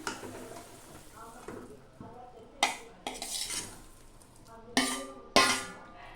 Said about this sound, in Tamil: இப்போ வேக வச்ச கருணக்கிழங்கை ஆட் பண்ணிக்கலாம்.